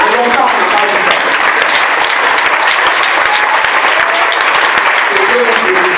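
A church congregation stands and applauds to acclaim God, a loud, dense, continuous wash of clapping that fills the room, with voices calling out among the applause.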